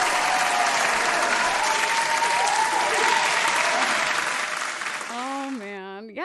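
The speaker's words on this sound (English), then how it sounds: "Some applause." Live audience applause at a Hamilton song performance, a dense wash of clapping and cheers holding steady, then fading as music begins near the end.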